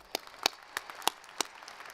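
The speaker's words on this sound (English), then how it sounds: "Let's give them all a round of applause." Scattered hand claps from an audience at a 2019 University of Idaho spring commencement ceremony, a few sparse, distinct claps spaced apart rather than full applause, moderately faint in a large hall.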